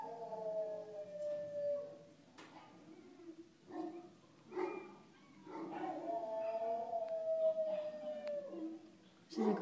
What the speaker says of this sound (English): all those dogs are making funny noises.